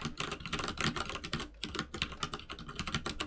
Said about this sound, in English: I have a mechanical keyboard, and it actually picks up